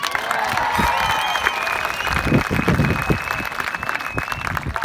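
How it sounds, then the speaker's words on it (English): An audience applauds student speeches at an education talk, with steady dense clapping and some cheering under a sustained tone, continuing at an even level throughout. "Give them a round of applause."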